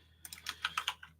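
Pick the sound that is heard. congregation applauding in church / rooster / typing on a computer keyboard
typing on a computer keyboard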